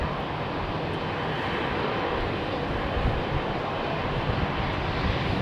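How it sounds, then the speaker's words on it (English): A jet airliner at full takeoff power departing Heathrow runway 27R, a loud, dense, continuous engine roar that holds steady throughout, with no talking. "It was immediately after applying takeoff thrust, very fast. There we go. So it was a full power departure"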